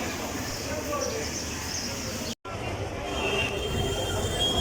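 A train standing at Sylhet railway station in Bangladesh gives a steady rumble with faint squeals and a constant station din, broken by a brief silent gap midway.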